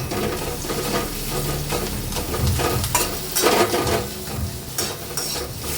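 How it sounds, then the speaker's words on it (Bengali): Onions fry in a pan for a vegetable bharta, giving a continuous crackling sizzle overlaid with repeated scraping and clattering stirs, loud and close. "তো আমি পেঁয়াজটা একটু লাল করে আগে ভেজে নেব"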